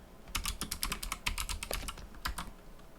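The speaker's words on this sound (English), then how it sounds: "hit T on the keyboard and then put in whatever word you want to use" Quick, uneven keystrokes clatter on a computer keyboard, a close and clear burst of typing with short pauses and nothing else heard.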